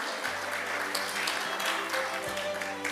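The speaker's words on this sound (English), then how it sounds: "Please welcome Chairman Cho with a big round of applause." Audience applause at an international sports conference, a steady wash of many hands clapping in a large hall, with a low hum running underneath.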